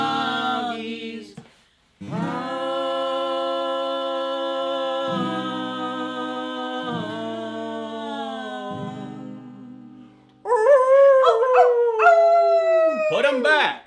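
The song plays as a long, sustained, tonal howl-like line, then gives way to loud bursts of yelping, bark-like sounds near the end.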